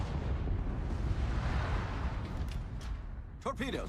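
Warship guns in a naval battle video game rumble as low, distant booms and a steady roar of gunfire, with a voice speaking near the end over the battle noise.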